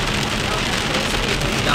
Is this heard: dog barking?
no